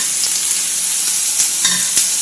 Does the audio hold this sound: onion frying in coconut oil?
yes